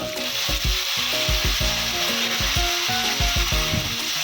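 Loud, steady sizzling of half a kilo of chicken sautéing in a pan for pepper chicken, with repeated scraping and stirring clatters of a utensil against the metal.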